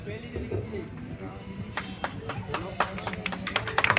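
A school Republic Day prize ceremony where the audience claps for students getting medals; a background hum gives way to a patter of sharp claps that builds toward the end, with voices murmuring throughout.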